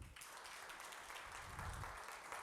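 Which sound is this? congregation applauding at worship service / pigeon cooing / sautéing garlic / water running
congregation applauding at worship service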